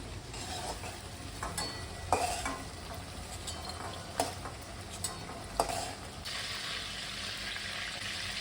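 Prawns frying lightly in hot oil for malai curry, a steady soft sizzle under intermittent clicks and clanks of a utensil against the pan, with a few sharper knocks and no talking.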